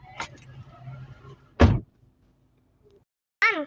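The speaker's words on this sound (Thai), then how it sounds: "ไปปิดประตูด้วย" A door is pulled shut with one sharp thud midway, followed later by a brief high squeak or creak after quiet shuffling and faint movement, no talking.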